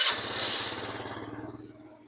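Small scooter engine idling right after its ignition is switched on, a steady close buzzing putter with a faint high whine that slowly fades over the two seconds, no voices.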